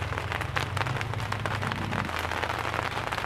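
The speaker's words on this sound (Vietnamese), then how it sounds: "các bạn có thể nghe thấy tiếng lộp độp ở trên, bởi đang trời đang bắt đầu mưa" Steady dense pattering of rain starting to fall on a greenhouse roof over potted strawberry plants, a continuous close hiss of drops without talk.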